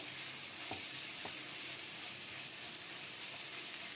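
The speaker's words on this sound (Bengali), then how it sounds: "আরেকটু কিছুক্ষণ কষবো" Prawn masala with tomato and green chillies sautéing in a pan gives a steady close sizzle, broken by a couple of light stirring scrapes, with no voices.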